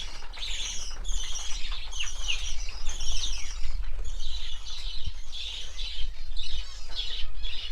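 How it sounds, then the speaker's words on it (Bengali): Many budgerigars chirp and chatter constantly in a crowded bird farm room, a busy overlapping twittering with occasional wing flutters. "এই ঘরের মধ্যে যেই বদ্যি পাখিগুলো তোমাদের দেখালাম"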